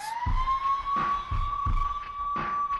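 A siren effect blares through a wrestling broadcast, its tone climbing and then holding, loud and continuous over rhythmic thumping beats, with no voices.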